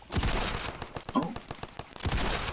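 Rapid gunfire from a gun in the military shooter game Ravenfield, a steady string of quick sharp shots with heavier thumps at the start and near the end.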